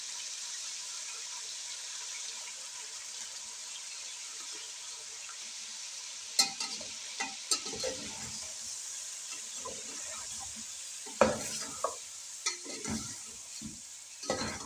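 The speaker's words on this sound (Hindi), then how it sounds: "हम इसे थोड़ी देर के लिए भून लेंगे इधर" Haleem spice mix being stirred and fried in a pot, with a steady hiss of frying throughout and scraping stir strokes that come in clusters during the second half.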